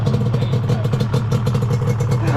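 A Yamaha Banshee 350 ATV engine runs close by after being kick-started, a loud, rapid rattling two-stroke putter with a steady pulsing rhythm and clattery mechanical noise.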